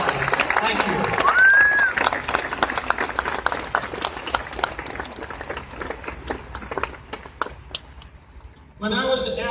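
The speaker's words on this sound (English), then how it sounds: "We appreciate it with a round of applause." A crowd at a prayer vigil claps in a round of applause, quick overlapping hand claps that thin out over several seconds, with a voice talking over it and more talk at the end.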